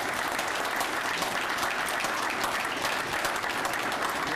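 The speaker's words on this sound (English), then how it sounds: "And so we want to give you all a round of applause." A graduation audience gives a sustained round of applause for the graduates, dense and even clapping from many hands that fills the space without pause.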